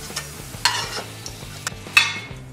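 Cauliflower frying in a pan for a mixed vegetable sabzi, a steady soft sizzle broken by a few sharp clinks and scrapes of a stirring spoon, close up with no voices.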